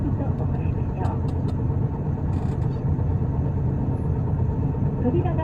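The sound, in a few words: Tokyu bus PKG-LV234L2 engine with abnormal noise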